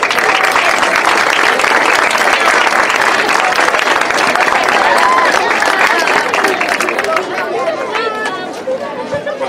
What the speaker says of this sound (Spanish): Un fuerte aplauso para Nancy.